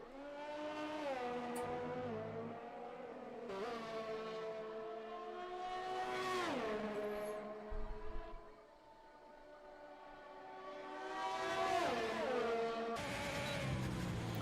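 An F1 race car engine on an out lap in a racing video game at the Russian Grand Prix, its high-pitched whine rising and falling through repeated gear shifts and revs, loud and continuous, with no talk over it.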